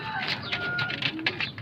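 Fancy pigeons with red feet coo softly in the background while someone talks over them close by.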